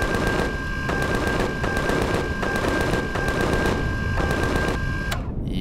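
Automated turret in the space survival game Empyrion firing sustained rapid bursts of gunfire, loud and dense with a steady high whine underneath, stopping abruptly near the end.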